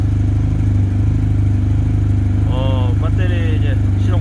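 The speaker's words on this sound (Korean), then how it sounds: "배터리 이제 시동 걸었으니까" A motorcycle engine fitted with a LiFePO4 lithium battery idles steadily after starting, a loud, even, throbbing putter close by, with someone speaking briefly over it toward the end.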